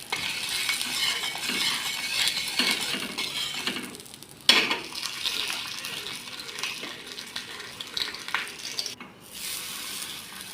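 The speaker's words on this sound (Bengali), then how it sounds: "তার মধ্যে ঘি দিয়ে আলু পরোটাকে ভেজে নেব" Aloo paratha fries in ghee with a steady, close sizzle throughout, broken by occasional metallic clinks and utensil taps and a brief sharp clatter near the middle.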